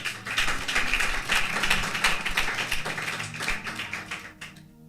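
A church congregation claps together in sustained, dense rhythmic applause acclaiming Jesus, loud and close, fading out at the very end.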